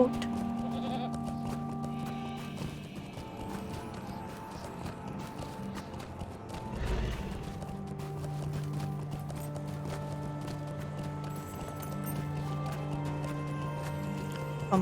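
A goat bleats while hooves clop in the Lord of the Rings Online video game, with repeated bleats over a steady ambient background.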